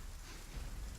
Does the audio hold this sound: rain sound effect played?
yes